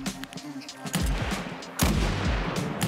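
Video game gunfire cracks out in loud, close bursts, with a rattle of rapid shots early on and two heavy volleys about a second apart.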